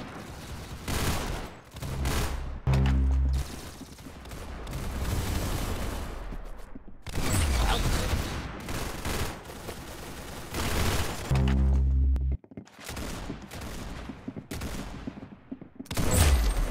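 Rapid gunfire from the Roblox shooter Arsenal, with repeated automatic bursts and heavier single shots that come loud and close, mixed with game effects and short gaps, and no talking.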